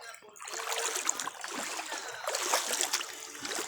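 Floodwater in a flooded neighbourhood in Negros sloshs and trickles with a steady broadband wash of splashing, as though moving through deep water, continuous and fairly near for a few seconds.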